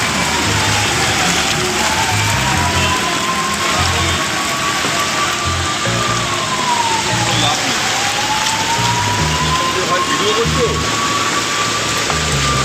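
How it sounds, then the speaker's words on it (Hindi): Steady rain pours down continuously, a dense hiss of drops on surfaces, with faint engine hum and distant traffic underneath. "आपको पता चल जाए कि हमारे शहर में क्या पानी है, क्या बारिश है।"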